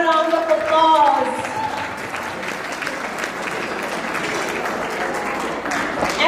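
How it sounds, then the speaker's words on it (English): A round of applause from the audience at an International Women's Day event, steady crowd clapping that follows a speaker's voice and continues evenly. "This deserves a round of applause."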